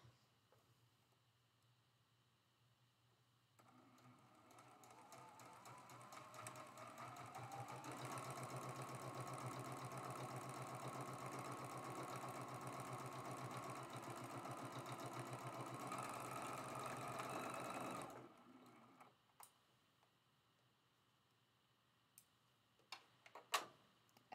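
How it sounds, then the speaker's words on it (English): A sewing machine sews a quarter-inch seam on a traditional Lone Pine Tree quilt block, whirring steadily and close for about fifteen seconds, then stopping, followed by a few soft clicks. "we're sewing that with a 1/4 inch seam allowance as well"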